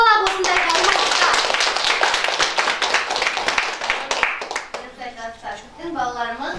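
Audience clapping for kindergarten children after their live singing performance, a dense burst of applause that fades toward the end as a voice rises briefly.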